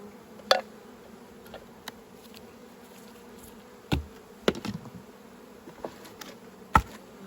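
Honey bees hum faintly around a beehive during nucleus hive work, a low steady drone with a few sharp knocks and clicks scattered through.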